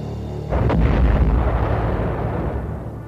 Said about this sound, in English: Belfast closed in to fire a last salvo of torpedoes at the crippled Scharnhorst